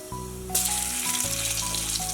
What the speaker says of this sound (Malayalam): പൊടിക്ക് ഉലുവ ഇട്ട് കൊടുക്കാവേ. ഇതൊക്കെ ഒന്ന് പൊട്ടട്ടെ കേട്ടോ.